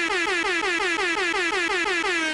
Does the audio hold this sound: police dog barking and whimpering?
no